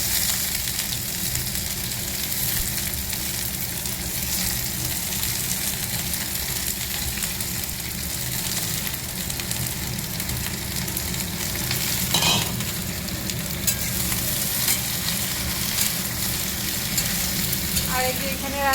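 An egg frying in a pan with green chili paste and coriander leaves, giving a steady close sizzle throughout with light stirring and a brief scrape.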